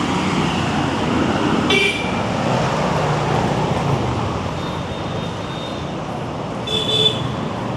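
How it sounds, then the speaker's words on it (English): Car horns toot in busy Mumbai street traffic, two distinct short blasts standing out above a constant roar of engines and road noise. "everyone in the road is going to be honking and dodging them"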